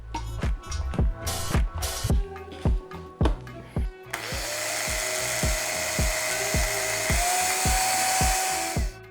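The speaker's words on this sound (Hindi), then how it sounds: "ये जो मिर्चें होती हैं ये बड़ी मुश्किल से ग्राइंड होती हैं" A kitchen grinder blends green chillies and garlic into chutney, first in short repeated pulses, then in one continuous loud whirring run lasting several seconds.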